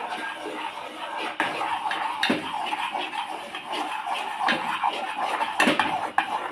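A cooking pot of payasam made with hind hudi (ichalu tree flour) being stirred, giving steady scraping and clinking of a utensil against the metal pot, with a few sharper knocks standing out; no one speaks.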